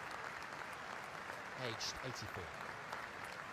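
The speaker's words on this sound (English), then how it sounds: "Prior to kick-off, there is a minute's applause for Ted Phillips" A football crowd at Ipswich Town versus Leeds applauds before kick-off for a minute's tribute, steady distant clapping across the stadium while a commentator talks over it.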